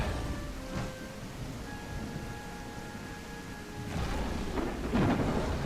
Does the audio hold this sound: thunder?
yes